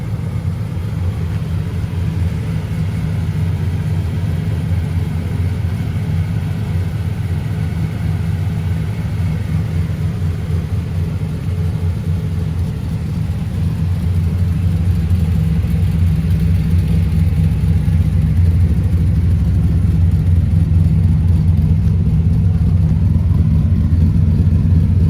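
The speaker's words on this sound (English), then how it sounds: "Awesome sounding exhaust." A deep, rumbling exhaust from the 383 stroker V8 of a 1979 Chevrolet El Camino hot rod drones steadily and grows slightly louder toward the end, heard up close.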